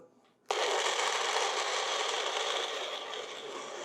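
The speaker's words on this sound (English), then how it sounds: "so now it's time to put everything in this Nutri blender" A Nutri blender starts abruptly and runs steadily, blending a herbal smoothie with yogurt, a loud, continuous whirring roar close to the microphone that eases slightly toward the end.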